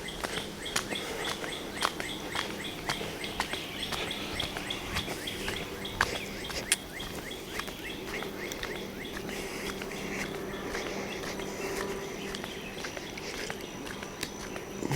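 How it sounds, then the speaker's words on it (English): Quiet, steady woodland ambience with scattered bird chirps and tweets from various distances, plus faint insect-like buzzing in the background. "You can listen for the birds."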